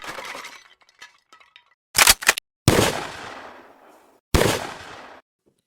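A large, heavy gun firing repeatedly as its magazine is emptied: a burst of sharp cracks followed by two loud, booming shots that each ring out and decay, all close and loud, with no talking.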